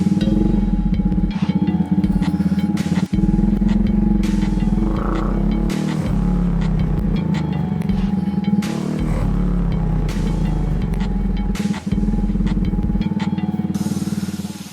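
A 250cc motorcycle engine rumbles loudly throughout a test ride, with shifting revs and steady throttle, recorded close with wind and road noise.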